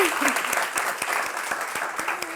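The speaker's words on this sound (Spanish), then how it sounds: "lo primero que vamos a hacer es comenzar con un aplauso para ustedes mismos" A live workshop audience on hunger and emotional eating claps for themselves in steady, close applause filling the room, with no talk over it.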